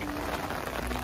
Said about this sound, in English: There's still some rain.